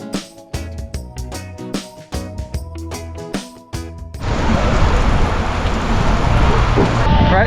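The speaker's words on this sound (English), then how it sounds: "Alright, so it started raining again," Rain starts pouring on Disney's Castaway Cay private island, a sudden dense broadband hiss that swells in and holds loud and steady after a stretch of sharp clicks and knocks.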